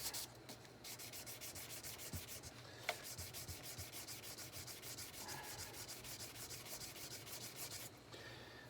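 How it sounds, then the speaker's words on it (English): Fine 1500–1600 grit abrasive rubs back and forth over a fret on an American Telecaster Custom Shop guitar, a faint, rapid, rhythmic scratching stroke repeated steadily for several seconds. "we're going to polish this fret."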